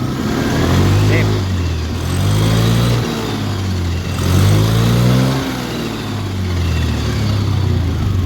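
A Honda Beat Deluxe scooter, just repaired after a wobbly rear wheel with its pulley and bearings replaced, revs close by in repeated rising and falling waves, its steady engine drone swelling and easing several times.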